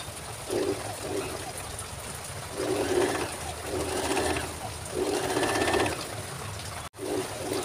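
A sewing machine stitches sleeve pieces in short, repeated bursts of rapid mechanical whirring and clatter, with brief pauses between runs and steady background hum.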